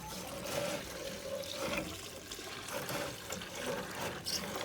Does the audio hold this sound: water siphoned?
yes